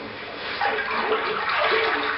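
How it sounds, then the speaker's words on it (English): A screen mold being dipped into a vat of raw cotton pulp and water during traditional hand papermaking, giving a steady watery sloshing and swirling that grows slightly louder halfway through, with no voices. "Then a screen called a mold is dipped into the pulp."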